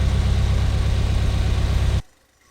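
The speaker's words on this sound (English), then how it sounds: "That is the Fiesta ST engine in the 88 Ford Festiva." A Fiesta ST EcoBoost engine swapped into a 1988 Ford Festiva idles at its first start with a steady, close, low rumble. After about two seconds the rumble cuts off abruptly into near silence.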